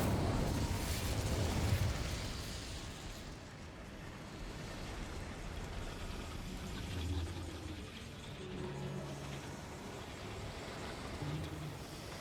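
Incendio fire spell cast in Hogwarts Legacy erupts as a dense, roaring whoosh of flame that swells loudly at first and then settles into a steady crackling rumble lasting several seconds, with no voices.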